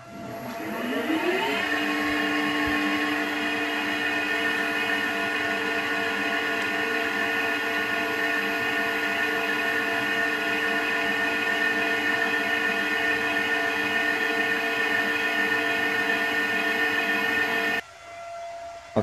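Victor lathe spindle running at 600 RPM on an 8-pole motor: a steady motor whine with strong harmonics rises as it spins up, then holds evenly before cutting off near the end, loud and alone.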